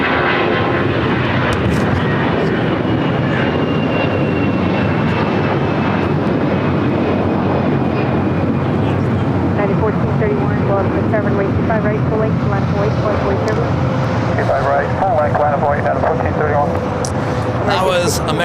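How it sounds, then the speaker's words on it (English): An American Airlines Airbus A321 jet takes off at LAX with a loud, steady engine roar and wind rumble that fills the whole stretch, while people talk over it. "That was American Airlines Flight 1658 heading to Dallas, Fort Worth, Texas, and at A321."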